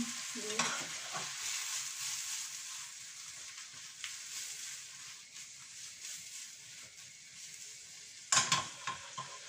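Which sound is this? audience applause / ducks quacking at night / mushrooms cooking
mushrooms cooking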